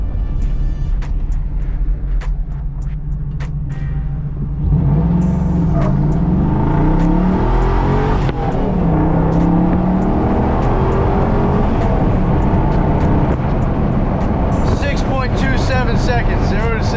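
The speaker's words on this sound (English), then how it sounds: "See if I can do a 0 to 60 here." An LS-swapped Jeep pulls hard from a stop toward 60 mph, its V8 engine rising loudly in pitch through several gear changes close up, with someone talking over the roar.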